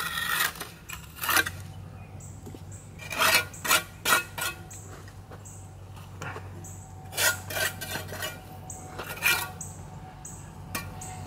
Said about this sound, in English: Use the trowel to clean up the cement on the outside.